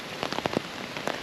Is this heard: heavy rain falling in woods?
yes